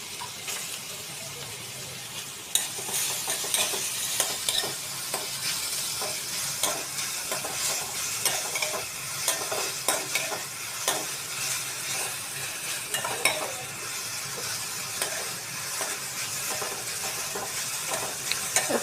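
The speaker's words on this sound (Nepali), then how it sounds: "यसमा मजाले भुट्नुहोस्।" Grated carrots sizzle in melted ghee for halwa over a medium flame, with a steady bright hiss and frequent stirring scrapes close by, no voices.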